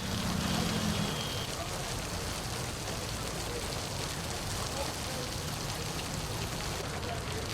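Heavy monsoon rain pours down in a dense, unbroken hiss that holds steady and even from start to finish, with no distinct pauses.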